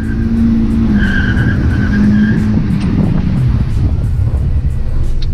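An Audi RS Q3 engine idles at a held rumble of about 3,400 rpm on launch control, then roars as the car launches hard, with loud rushing wind noise on the microphone.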